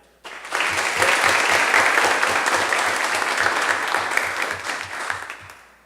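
Children and adults clapping at a youth student parliament session, applause starting abruptly and holding loud and dense for several seconds before tapering slightly, over a faint rhythmic low thump.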